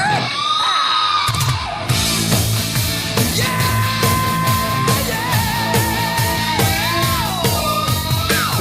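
A prolonged high rock scream from a singer rises over the band, followed by blistering electric guitar, with driving drums and bass. It comes from the opening of an album recording, loud and dense with sustained wailing notes.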